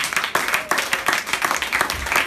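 Audience applause for the Lord at a church seminar, a loud, dense burst of many hands clapping that runs steadily throughout with slight swells.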